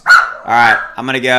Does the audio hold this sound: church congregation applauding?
no